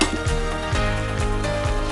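A utensil stirs batter in a bowl while everything is bound together, giving soft rhythmic scrapes and light clinks about every half second, close and fairly steady.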